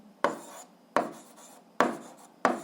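Pen strokes on paper while working an eighth-grade algebra exercise: four short scratchy bursts, evenly spaced and close, with quiet gaps between and no talk.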